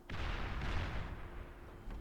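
Battleships shelling from long range in the strategy game Beyond All Reason: a deep booming artillery rumble that swells and slowly decays, followed by another thump at the end, with no speech.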